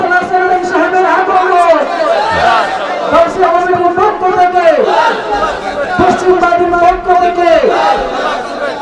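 A crowd at an Islamic religious gathering in Habiganj chants a slogan in loud, rhythmic unison, repeated phrases rising and falling in regular waves, led by a voice.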